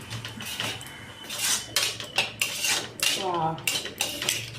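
A spoon scrapes and clatters against a pan while bottle gourd and sesame powder curry is stirred, with repeated close metallic knocks and scraping strokes and no voices.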